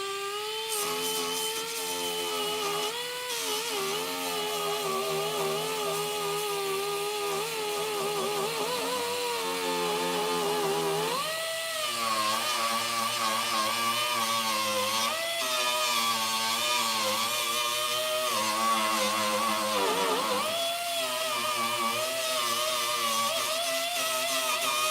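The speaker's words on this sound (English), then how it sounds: "And we're gonna start sanding on this thing." A power sander whirs steadily up close, its pitch wavering and dipping as pressure changes against the surface, with no talking.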